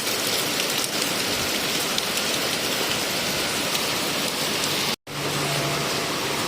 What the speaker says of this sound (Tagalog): Grabe, grabe ang ulan, lakas pa rin.